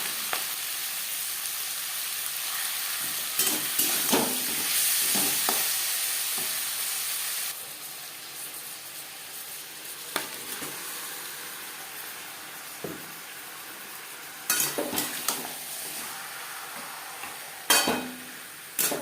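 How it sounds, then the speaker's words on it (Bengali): Marinated shankar fish being mixed with onion and tomato in a hot pan over high flame, a soft continuous sizzle broken by a few sharp scraping and clattering stirs, close by. "পেঁয়াজ টমেটোর সাথে মাছ বেশ ভালো করে মিক্স করে দেব"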